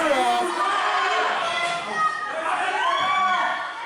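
A crowd cheering in a cheer-off at a Super Shogun Wrestling tournament, a loud, continuous roar of many voices, with shouts and yells rising and falling close by.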